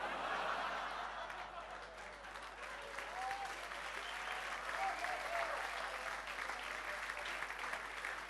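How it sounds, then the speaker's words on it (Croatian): Sustained audience applause fills a stand-up comedy show, dense and steady throughout with a few scattered chuckles mixed in, a large crowd clapping at close-to-moderate distance. "ajde, dosta je aplauza za njega"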